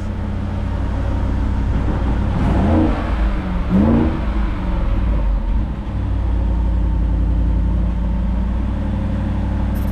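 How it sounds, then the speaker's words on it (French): A car engine in sport mode idles with a deep rumble, then revs up sharply twice around the middle before settling back to a steady, loud idle. "Et là, quand tu vas donner un coup de gaz"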